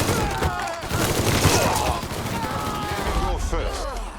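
Game gunfire from Mafia 3 in a swampy bayou setting, with bursts of shots in a dense, busy mix that runs nearly the whole time, loud and continuous, with voices talking over it.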